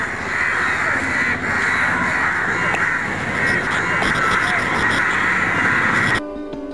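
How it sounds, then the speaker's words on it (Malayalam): A large flock of crows caws continuously and loudly in a village in Cheruvadi, with overlapping calls forming a dense, unbroken chorus that cuts off abruptly near the end. "എന്നാൽ 900 കാക്കകളുടെ നാടുണ്ട്."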